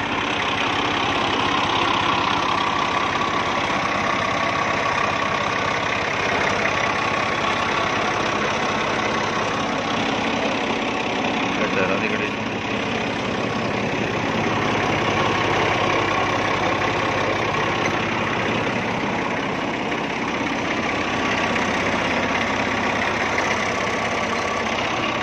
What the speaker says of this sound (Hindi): चलो स्टार्ट दे, मैकेनिकल ठीक है ट्रैक्टर।